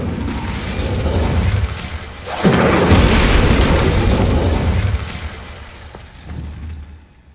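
A fire spell, Incendio, is cast in Hogwarts Legacy: a heavy booming burst erupts into a loud, sustained roaring rush of flame that lingers for a few seconds before fading.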